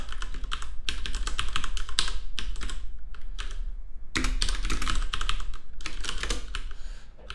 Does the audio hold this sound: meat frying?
no